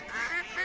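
A single nasal duck quack, drawn out and slightly wavering, loud and close in a radio advert, heard alone.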